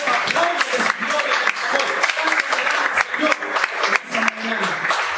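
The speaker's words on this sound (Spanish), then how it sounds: "¿Cuántos aplauden el Señor?" Church congregation applauding in praise during a Spanish-language service, a continuous dense patter of many hands clapping at close range, fairly loud and steady with slight dips, with some voices mixed in.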